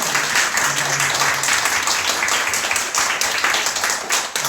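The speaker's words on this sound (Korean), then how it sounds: "감사의 박수 한번 할까요?" A church congregation applauds after a Korean traditional-music gospel performance, a dense, steady wash of many hands clapping at full volume throughout.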